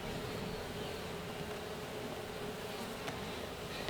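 Bees swarm around a hive at a growing apiary, a dense, steady, close buzzing hum that holds throughout without voices.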